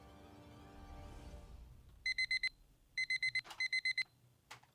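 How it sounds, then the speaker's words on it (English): A film's alarm clock sound effect rings in rapid bursts of high electronic beeps, loud and close, after a low rumbling tone fades out. "using a real alarm clock sound effect, it takes you out of the movie"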